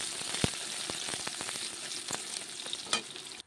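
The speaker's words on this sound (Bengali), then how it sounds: "তো পেঁয়াজগুলো এখন ভেজে নেব।" Onions fry in hot oil in a wok, a continuous close sizzle with scattered crackling pops and a sharp spit near the start, no voices over it.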